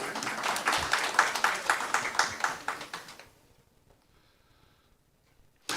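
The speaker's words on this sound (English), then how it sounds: "Give yourselves a round of applause, please." Audience at a sports awards ceremony clapping in a lively burst of applause that fades out after a few seconds into near silence, with a brief noise at the very end.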